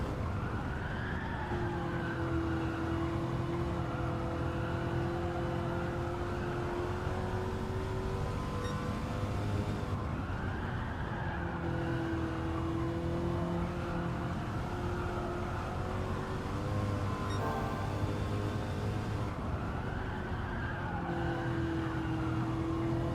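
A car in a racing video game time trial brakes hard with tires skidding, a continuous tonal squeal that rises and falls in repeated sweeps over a steady engine drone.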